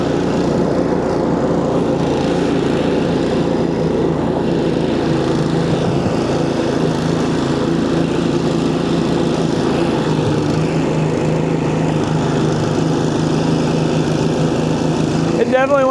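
A DIY track sled's small motor runs throughout a test drive with its motor hanging off one side, a steady buzzing drone with slight shifts in pitch, heard close and continuous.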